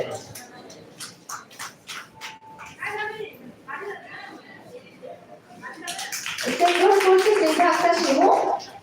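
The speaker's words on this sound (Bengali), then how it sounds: "আপনারা করতালির মাধ্যমে তাদের উদ্বুদ্ধ করবেন" Audience applause at a women's organisation cheque distribution event in Dinajpur, a rising wave of clapping swelling loud near the end, following announcer speech over a microphone.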